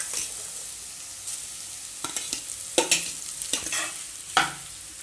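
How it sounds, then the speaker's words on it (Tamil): Paneer sautéed and stirred in a pan for paneer fried rice: a steady sizzle broken by several sharp spatula scrapes and clacks, the loudest near the middle and end, close and clear with no talking. "பன்னீர் போட்டு வதக்கி விடுங்க"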